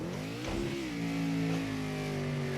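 Throttle blip during a heel-toe downshift in Project Cars 2, the racing car's engine tone rising briefly and then settling into a steady drone, close and loud with no talking.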